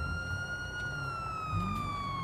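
Police car siren wailing in GTA 5, a steady high tone gliding slowly downward with bright harmonics, loud and continuous over low engine-like rumble and background noise.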